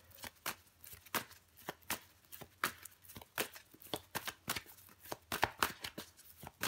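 Tarot cards shuffled and handled up close, a quick irregular series of crisp riffling snaps and slaps with almost no talk.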